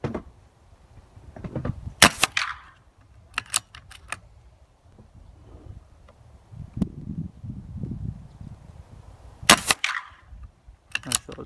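Air rifle shots in .177 and .22 calibre at a target club, several sharp isolated cracks spread apart over quiet background with faint low murmur.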